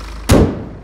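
The hood of a BMW 320d GT is shut with a single close, heavy thud that fades quickly against a low background hum.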